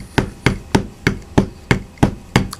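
Wooden drumsticks strike a snare drum in backsticking strokes: eight sharp, even hits at a steady quick pulse, close and loud, with no voices.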